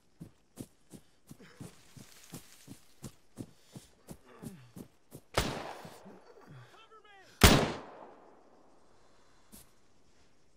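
Gunfire in the military shooter ArmA 3: a run of evenly spaced, fairly faint shots, then two much louder, heavier blasts with ringing tails, the second the strongest.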